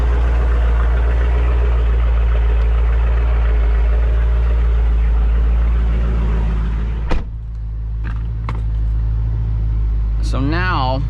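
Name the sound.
Dodge Challenger Scat Pack exhaust, mid-muffler delete and H-pipe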